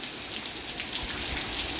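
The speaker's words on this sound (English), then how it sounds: "it just rained like this a week ago" Rain falling in East Mesa, a steady close patter of drops on surfaces with no voices.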